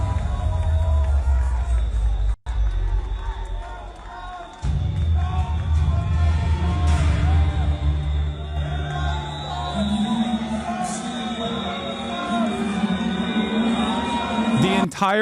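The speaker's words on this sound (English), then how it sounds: "The entire arena was booing, making noise, not in a positive way, but in a negative one." A large Eurovision 2025 arena crowd reacts loudly to Israel's performance with a dense, sustained roar of voices and booing-like jeers. The wall of noise fills the whole span, briefly cutting out twice near the start, with shouts and babble rising over it.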